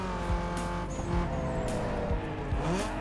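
Race car in Need for Speed Underground 2 driving at full throttle, a steady engine drone with shifting pitch and brief tyre squeals as it takes corners without braking.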